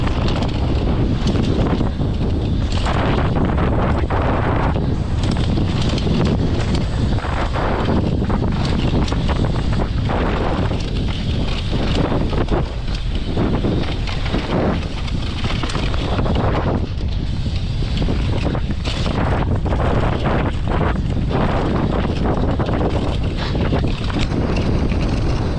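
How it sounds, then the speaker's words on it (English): Strong wind buffets the microphone on a mountain bike trail in Spain, a loud continuous roaring rumble with gusty swells and no clear speech. "It's got windy now."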